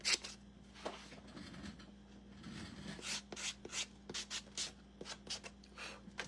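Scrap-wood triangle being hand sanded for a small craft house and barn, giving close, rhythmic rasping strokes that speed up into quick, even passes, with no talking.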